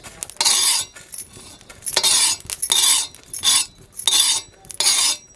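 Whole garam masala spices being stirred and roasted dry in a pan, a spoon scraping and rattling the spices in about six loud, rhythmic bursts separated by short pauses.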